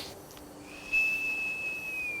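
A sloth's single clear, sustained whistle-like call, thin and high, holding steady for over a second before sliding slightly lower, with no talking.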